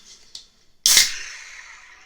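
A can of nitro imperial Vietnamese coffee stout is cracked open with a sharp, loud hiss-pop, followed by a long fading fizz from the widget; a small click comes just before.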